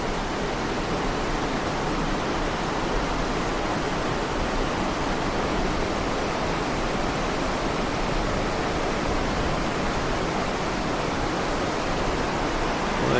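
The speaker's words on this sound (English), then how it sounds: "very noisy little river" A noisy little river rushes below a balcony in Spain or Portugal, a loud, steady broadband roar of flowing water with no voices over it.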